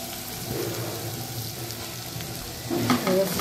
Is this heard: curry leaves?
yes